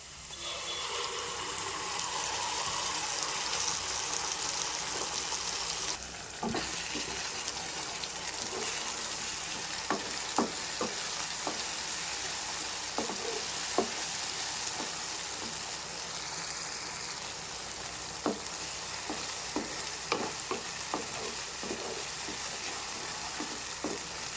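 Onions frying in a pan for a fish mustard curry, a soft, steady sizzle heard close and fairly quiet, with scattered clicks and scrapes from stirring throughout.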